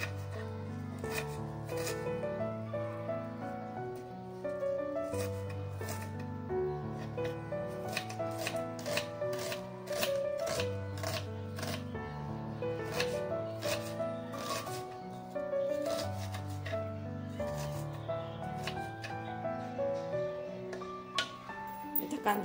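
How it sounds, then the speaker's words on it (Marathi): A knife chops an onion on a board in a home kitchen, with quick, steady strokes repeating throughout. The chopping sits faintly under continuous background music. "कांदा चिरून घेते।"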